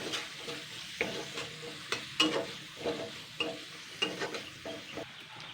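Garlic, onion, chilli and whole cumin stir-fried in oil, a soft continuous sizzle broken by rhythmic scraping and clinking of a spatula in the pan, close and fairly quiet.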